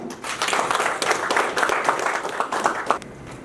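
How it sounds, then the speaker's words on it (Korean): An audience at a council meeting in a meeting room claps together for a few seconds, a brisk, dense patter of hands that fades out near the end. "여기에 계신 분 우리 모두를 위해서 박수 한번 치죠"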